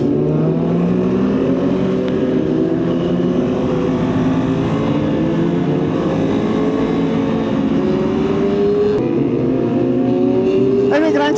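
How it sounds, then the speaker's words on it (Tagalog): Loud motorcycle exhausts, among them a KTM SMC-R 390, drone and rev on a group ride toward Tagaytay Highlands, the engine pitch rising and falling steadily close by under the wind. "Sana narinig niyo yung mga exhaust nila."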